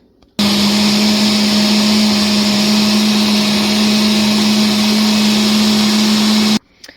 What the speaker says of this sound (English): it saves kind of the motor because you're slowly going up the chain of, you know, more and more intense blending